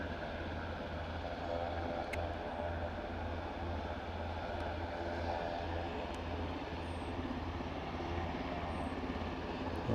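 Aircraft on final approach to Aberdeen airport, a steady distant engine drone holding at an even level throughout with a low constant hum.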